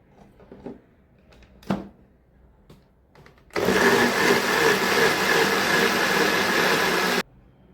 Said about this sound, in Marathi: आता याची मिक्सरला एक छानशी पेस्ट करून घ्यायची आहे.